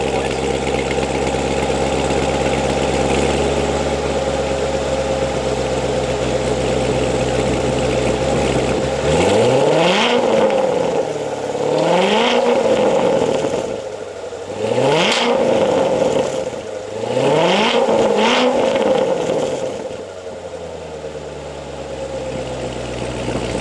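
A Chevrolet Corvette C7 Grand Sport fitted with a K&N air filter idles loudly, then revs hard in several rising and falling pulls before settling back to a steady idle, close and alone.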